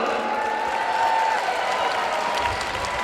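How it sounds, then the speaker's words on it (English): A crowd cheers and applauds in a continuous roar at a junior track cycling world championships in Glasgow, moderately loud and sustained throughout. "to help Clyde out, because the faster you cheer, the faster he'll go."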